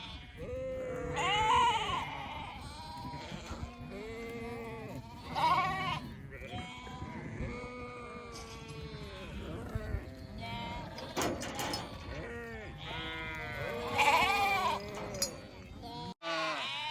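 Ewes bleating in a back pen on a farm, several loud, wavering calls near and far overlapping across the scene, with a person speaking briefly.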